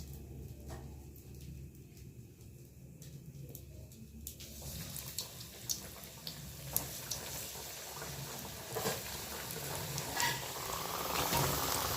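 Chicken pieces for homemade KFC-style fried chicken sizzle in hot oil, a soft steady crackle that grows brighter and denser after a few seconds, with scattered pops over a low background hum.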